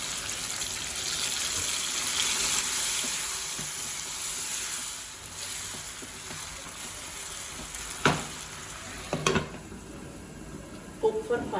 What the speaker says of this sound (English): Now add tomato gravy.